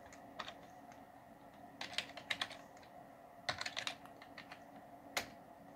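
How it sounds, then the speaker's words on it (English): Keystrokes on a computer keyboard come in several quick bursts of clicking with short pauses between them, ending in a single firmer key press, close and fairly quiet with no voices. "I just typed it in there and hit enter."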